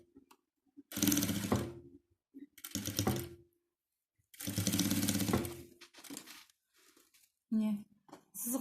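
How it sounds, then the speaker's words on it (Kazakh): Domestic sewing machine stitching pieced quilt blocks together in bursts of a second or two, with short pauses between runs and someone speaking quietly between them. "Мына сызыққа біріктіріп былай тігіп шығамыз."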